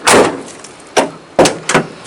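Door handle and door of a 1979 Ford F-series Dentside pickup, heard as several sharp, loud metallic clunks and latch snaps spaced irregularly, close by with no talking.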